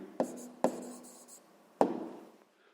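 Pen or chalk writing down a math answer, three sharp taps or strokes with short scratchy tails, close and fairly quiet against near silence.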